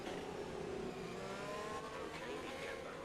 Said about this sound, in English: I'm turning the engine up.